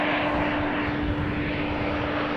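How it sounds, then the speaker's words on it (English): An Embraer 190 airliner arriving at Amsterdam Schiphol roars in a loud, steady engine drone that holds constant throughout, with no voices. "another Embraer 190 coming in over here"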